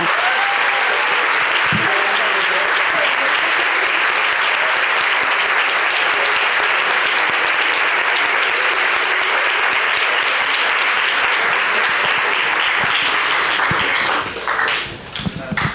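Strong, sustained applause from a large audience at an interdisciplinary dramaturgy colloquium, clapping for a panel. It sounds close and loud, with a steady roar lasting about fourteen seconds before fading at the end.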